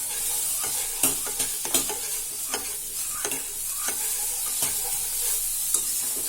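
Phirni payasam with sugar stirred in a pot over a steady background sizzle, with repeated scraping strokes of a spoon against the pot at an irregular, unhurried rhythm, close and clear.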